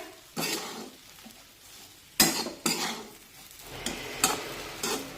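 Salt being stirred into leftover chapati chivda in a pan: a few separate scraping, clinking strokes of a spoon against the metal, close and fairly quiet, with short pauses between them.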